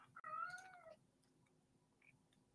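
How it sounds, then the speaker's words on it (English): A house cat lets out a single close, clear meow that bends in pitch, followed by a quiet room with only faint ticking. "I will have to feed the cat after this, apparently, or let you out."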